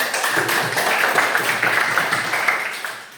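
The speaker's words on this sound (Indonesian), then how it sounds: "Terima kasih tepuk tangan." Students clapping in a classroom, a brief, dense round of applause from a group of hands, close and steady for a few seconds.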